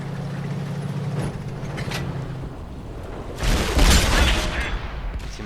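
A tank cannon fires in the World of Tanks game on Xbox One, a single heavy boom near the end over a steady engine rumble, with no voice over the sound.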